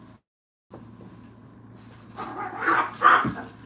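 A dog at play fetching a ball gives a couple of sharp barks near the end, rising out of a quiet room hum after a brief silence.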